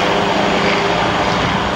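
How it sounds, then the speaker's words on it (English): The Rutan Voyager's engines drone loud and steady during its fully fuelled takeoff roll down the runway, a dense continuous roar with no talk. "The takeoff roll begins."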